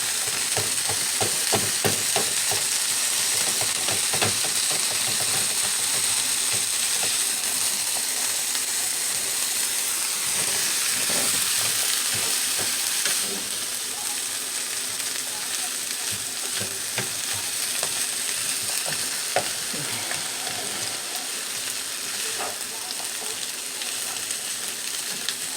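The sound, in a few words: ground beef frying and being chopped in a pan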